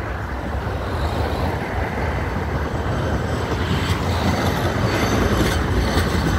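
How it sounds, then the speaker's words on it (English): An electric tram in Italy rumbles past close by on a very hot day, steel wheels grinding and faintly squealing on the rails in a loud, continuous roar. "That is tram here"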